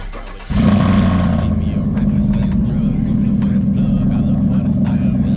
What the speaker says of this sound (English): We're gonna give them a cold start.